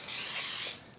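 A single short burst of baking spray, a kind that contains flour, hits a 9 by 13 baking dish as a close, loud hiss that cuts off abruptly after under a second.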